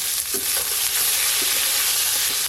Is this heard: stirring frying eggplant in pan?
yes